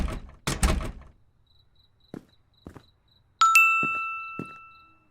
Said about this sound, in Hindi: फोन आया, योर कैब हैज अराइव्ड।